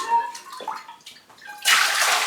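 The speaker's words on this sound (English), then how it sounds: "get some water up into the roots to start moving up through the plant" Water pours onto dry bark in cymbidium orchid pots, a steady close splash that swells loudly near the end after a softer, broken start.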